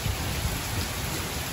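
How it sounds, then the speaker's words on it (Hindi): Heavy rain falls in a dense, steady hiss, close and continuous with no pauses, and no other sound stands out over it. "ये देखो आज कुछ बारिश हो रही है"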